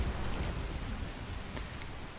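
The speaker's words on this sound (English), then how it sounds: "See how it's raining right now?" Steady rain falls in the Skyrim video game, a dense, even hiss of drops hitting surfaces that fills the whole short stretch without any speech.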